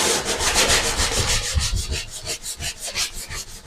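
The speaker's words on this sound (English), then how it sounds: "This area here needs to be sanded down a little bit to level it out." A hand sanding wood with 180 grit sandpaper to level a spot, making close, steady, rhythmic strokes of rasping friction with no voices.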